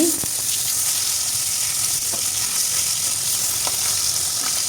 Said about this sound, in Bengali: সরিষার তেল দিয়ে মাছগুলো এখন ভালোভাবে ভেজে নেব